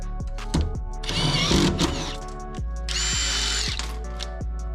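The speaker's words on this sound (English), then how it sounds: "putting the last couple of rivets" A budget boat rebuild with a power tool driving in the last rivets: several loud, sustained whirring bursts separated by short pauses and sharp clicks, close by and with no talking.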